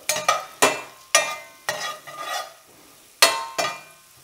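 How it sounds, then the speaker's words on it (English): Red onions with sugar stirred in a pan for caramelizing, heard as a series of sharp, close utensil scrapes and knocks at irregular intervals over a soft sizzle, with no voices. "So we're just going to put that in there and give this another stir."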